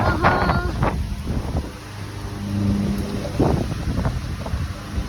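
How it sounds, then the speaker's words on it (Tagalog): Strong storm wind buffets the microphone in loud, rumbling gusts in a garden, with a few faint voices underneath. "Malakas ang hangin, may bagyo yata."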